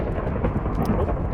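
Rain pours steadily in the Minecraft video game with a rolling rumble of thunder, loud and continuous with no voices.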